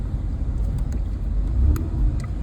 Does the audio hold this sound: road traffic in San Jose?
yes